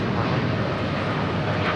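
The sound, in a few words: Air Canada Boeing 787-9 Dreamliner taking off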